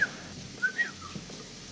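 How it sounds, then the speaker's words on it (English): Sharp, high whistle signal in an underground gold mine tunnel in South Africa, three short blasts with a gap between the first and the last two, echoing against a steady low rumble, no voices. "We've got a special whistle."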